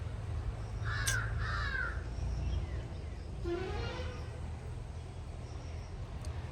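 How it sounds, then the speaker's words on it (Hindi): Crows caw outdoors: a pair of harsh caws early on, then another drawn-out call a moment later, over low steady background hum. "पता नहीं कल परसों से कौवे क्यों इतना बोल रहे हैं"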